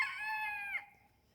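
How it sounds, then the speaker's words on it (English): A rooster crows close by, one loud drawn-out call lasting under a second that breaks off sharply and then fades. "the roosters are close by, sorry."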